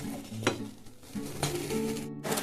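Pea filling for kachori frying dry in a pan over a medium-low flame, soft sizzling with a few distinct scraping stirs of a spatula against the pan, close and fairly quiet.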